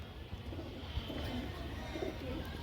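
Flying pigeons that have tangled with another flock, cooing softly in a steady low murmur against a constant background hum, with no one speaking.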